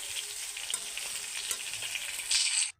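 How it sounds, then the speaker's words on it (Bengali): Vegetables sautéing in a hot pan for a curry, giving a steady close sizzle and crackle with occasional stirring clicks, rising briefly louder before cutting off. "এখানে এই সবজিটা কষিয়ে নিচ্ছি"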